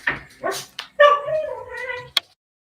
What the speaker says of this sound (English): my dog makes a lot of noise